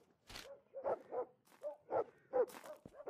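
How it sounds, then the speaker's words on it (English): Dogs barking in a drug dealer simulator video game, a string of about seven to eight moderate, evenly spaced barks and yips, fairly close, with no talk over them. "God, these dogs are annoying."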